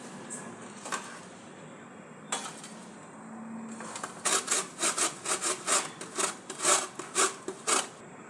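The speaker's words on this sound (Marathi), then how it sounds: "हा गूळ घेतला आहे कवटाच्या चटणीमध्ये टाकायला तो आता मी किसून घेते" A block of jaggery is grated for wood apple chutney, first with a few scattered scrapes, then a quick run of rhythmic rasping strokes close by, with no one talking.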